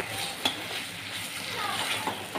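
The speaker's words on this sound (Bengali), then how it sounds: "এবারে আমি এর মধ্যে দিয়ে দেব পরিমাণ মতো জল।" Water is poured into a frying spice mix for a sapla curry with pabda fish, bringing a soft, steady sizzle and hiss with a few light utensil clinks, fairly quiet and close.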